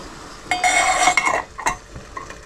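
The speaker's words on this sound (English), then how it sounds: "Just going to demonstrate now how to use the snuffer." A metal snuffer is placed over the flame of an alcohol spirit stove beneath a pot stand, giving a bright metallic clink and scrape, then a couple of lighter taps, close and brief.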